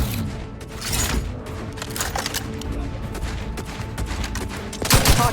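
Gunfire in The Outer Worlds 2 firefight: dense, rapid volleys of shots crackle steadily throughout, with a heavier burst near the end, alongside game sound effects and no speech.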